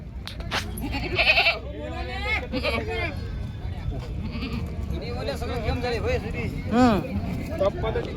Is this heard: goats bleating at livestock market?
yes